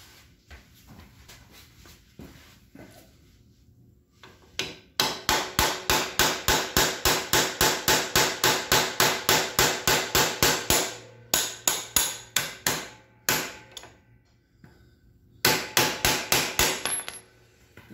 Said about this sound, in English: Do need to knock this pin out here.